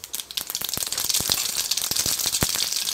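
Mustard seeds crackle and pop in hot oil while tempering for a sambar, giving a dense, steady sizzle scattered with sharp, irregular snaps close to the pan.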